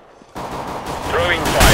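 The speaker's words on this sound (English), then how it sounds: "Throwing flashbang" A flashbang grenade goes off in a round of Counter-Strike on the Cache map, a loud broadband burst that swells and stays bright, with faint whistling game tones layered over it.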